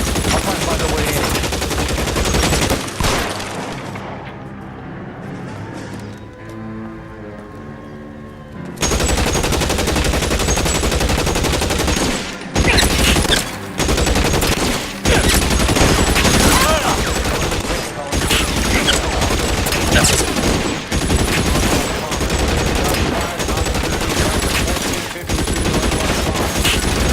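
Loud, dense gunfire from L.A. Noire, sustained bursts of rapid shots that pause briefly for a quieter stretch before resuming hard and continuous, close and dominant over the rest of the mix.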